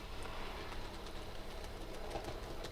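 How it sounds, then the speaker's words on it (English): A small model railway shunter locomotive pulls a couple of wagons around a curve on an exhibition layout, giving a faint, steady running rumble with light clicking from the wheels, no talk. "So here comes my little shunter now with a couple of wagons"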